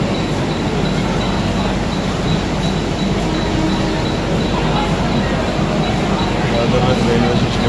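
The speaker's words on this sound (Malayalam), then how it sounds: "അപ്പം ദാദർ സ്റ്റേഷനിൽ നിന്ന് വണ്ടി എടുത്തിരിക്കുകയാണ്" Mumbai local train pulling out of Dadar station, heard from on board as a loud continuous rumble and rattle of wheels and carriages, with people talking over it.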